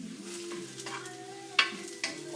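Eggplant pieces frying in extra virgin olive oil are stirred in a pan, with a soft sizzle under a few sharper scraping knocks of the utensil.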